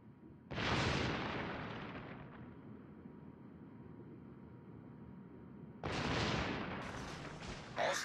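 Heavy naval guns on a warship in World of Warships boom in two loud salvos, each a deep blast followed by a long rumbling decay, with a sharper crack near the end.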